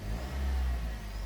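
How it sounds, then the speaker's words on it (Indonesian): A 2003 Suzuki Aerio with a manual gearbox and an aftermarket rear exhaust gets a short rev, a close, deep engine roar rising briefly with no voices. "Ini coba kasih gas."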